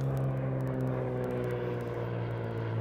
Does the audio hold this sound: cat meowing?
no